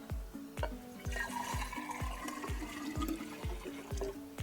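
Sweet tea solution pours into a kombucha brewing jar in a home kitchen, with steady glugging of liquid and a regular series of hollow knocks or drips repeating about twice a second.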